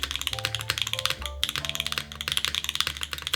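Fast, steady typing on a Float65 mechanical keyboard resting on a desk pad, crisp close clacks in a rapid rhythm with a brief pause midway, over faint background music.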